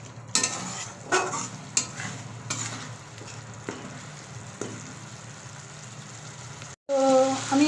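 Spiced curry masala for a cauliflower and potato dish is stirred and fried in a pan, with scraping spatula strokes over a constant sizzle. A louder, different burst of sound cuts in at the end.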